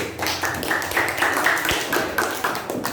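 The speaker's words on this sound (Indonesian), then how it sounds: "Tepuk tangan lagi." A classroom group claps in a steady, rhythmic pattern of sharp, close hand claps that repeat evenly for several seconds, with no talk over them.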